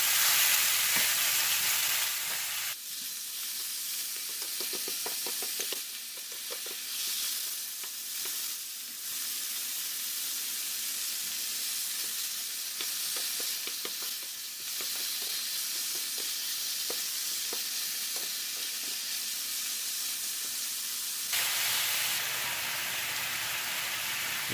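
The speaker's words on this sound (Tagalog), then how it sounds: "Lutuin natin ng konti yung ating chicken." Chicken sautéing in a pan with garlic and broccoli makes a loud, continuous sizzle with occasional stirring scrapes and a hissing crackle that swells strongly at the start and end.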